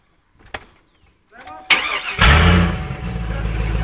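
A Hummer H2 fitted with a Fabtech cut-out exhaust cranks with a few clicks and whirs, then fires into a loud, deep rumble and settles into an idle, with someone speaking briefly just before it starts.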